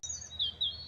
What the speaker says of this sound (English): sat here by the pond, listening to the birds singing.